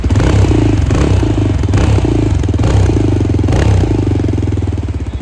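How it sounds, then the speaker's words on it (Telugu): Loud, close exhaust note of a 2026 Yezdi Scrambler motorcycle, a throbbing, pulsing engine rumble that holds steady with slight rev swells for several seconds, no voices. "మనమైతే ఇప్పుడు ఒకసారి ఎగ్జాస్ట్ నోట్ కూడా విందాం ఈ బైక్ ఎట్లుందో"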